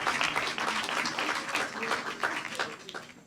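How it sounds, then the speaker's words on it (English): Audience applause at an outdoor park ribbon-cutting ceremony, a brisk burst of many hands clapping that starts loud and gradually tapers off over a few seconds. "give him an applause."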